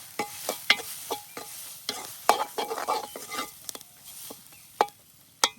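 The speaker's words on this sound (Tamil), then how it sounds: "எல்லாம் போட்டு நல்லா வதக்கி" Tomatoes and spices sautéing in a pan for spicy crab rasam, with sharp scattered clinks and scrapes of a spoon stirring over a low sizzle, fairly close and without speech.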